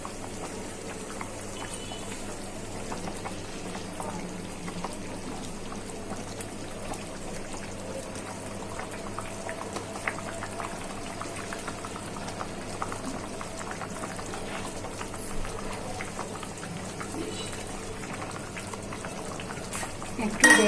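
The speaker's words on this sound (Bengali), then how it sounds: "আমি একে একে মাছগুলো দিয়ে দিচ্ছি।" Snake gourd curry with small golsha and tengra fish simmers in a pot as the fish go in, giving a steady, close bubbling and gentle liquid boil that runs evenly throughout without any talking.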